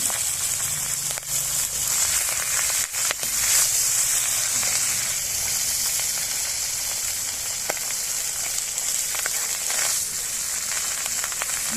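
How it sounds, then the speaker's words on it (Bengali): Pabda fish frying in hot oil in a pan, a continuous dense hiss-like sizzle holding steady and fairly loud throughout, with a few faint clicks and no speech. "এই মাছ বেশি ভাজার প্রয়োজন নাই।"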